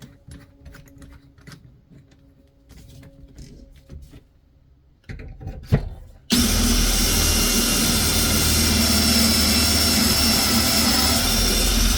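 Power drill with a 1/4 inch bit boring through an angled drill guide jig, quiet handling and clicks at first, then a loud sustained motor whine starting around six seconds and running to the end, close by.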